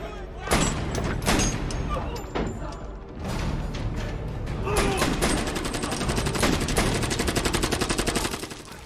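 Rapid gunfire from a pistol fight in a film scene, dense overlapping shots and bursts sustained loudly throughout, with some voices mixed in.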